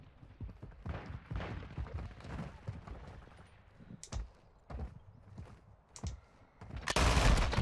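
Single pistol shots in Call of Duty MW2 ring out sporadically, sharp and fairly close, spaced irregularly between quieter game noise, with a louder burst of fire at the end.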